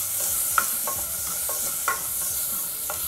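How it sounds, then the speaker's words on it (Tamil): Grated coconut roasting in a pan sizzles in a steady hiss, with soft scraping stir strokes every half second or so, for a village-style chicken salna. "இப்போ இந்த தேங்காய் வந்து கொஞ்சம் ப்ரௌன் ஆகிற வரைக்கும் நல்லா வறுத்துக்கலாம்."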